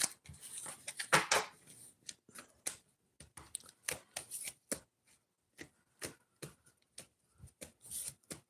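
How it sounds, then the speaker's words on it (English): Tarot cards being shuffled by hand, close and quiet, with irregular bursts of riffling and sharp card snaps separated by short pauses. "I'm going to shuffle until I start seeing somebody on here"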